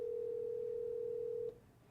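Steady telephone tone over a call line, a single continuous pitch holding for about a second and a half before cutting off, faint and with no voices.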